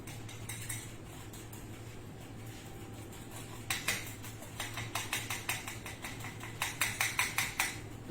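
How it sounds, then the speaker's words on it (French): A chard leaf clafoutis batter being stirred in a bowl, heard as quiet rapid clinking of utensil against the bowl that comes in bursts of rhythmic taps, close and fairly faint. "Il faut bien remuer."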